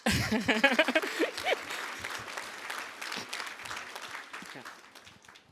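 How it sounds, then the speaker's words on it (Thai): Audience applause at a Thai business testimony talk, clapping that rises under a speaking voice and then gradually fades out. "ปรบมือหน่อยสิฮะ"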